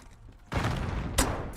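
Video game gunfire during a match to protect a high-value target: a sudden loud burst of rapid shots that keeps going, with two sharper cracks standing out near the end.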